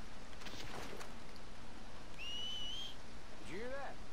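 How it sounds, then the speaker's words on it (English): A character whistles in the video game Red Dead Redemption 2, a couple of short sharp whistled notes, one steady and one rising, over constant rain-like background hiss. "when I whistle, I think I need to be in a certain spot."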